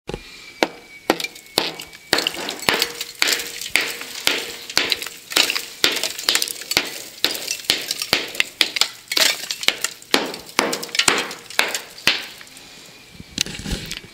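Hammer knocking old plaster off brick walls in a house under renovation: rapid, irregular sharp knocks and crumbling impacts with bits falling, continuous and close, with a short pause near the end.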